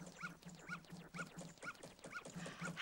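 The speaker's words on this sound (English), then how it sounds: "That's the dog that keeps trying to kill me." A dog in the video game Zelda: Majora's Mask gives a string of short, regular yips and whimpers at moderate distance, fairly quiet, with a brighter cry at the end.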